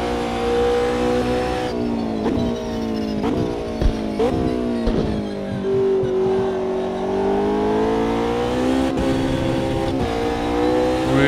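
A GT3 race car in Automobilista 2 screams through the gears, its engine bouncing off the rev limiter in repeated stuttering bursts between shifts, loud and close with no voices.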